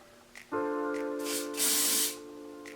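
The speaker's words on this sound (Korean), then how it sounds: "자 이제 액체 스프레이로 한번 고정을 해볼 건데요 자 분사해 볼게요" Liquid hair spray hisses out of a bottle in two bursts, the second one longer and stronger, with a soft tonal whine under it, heard close during hair styling.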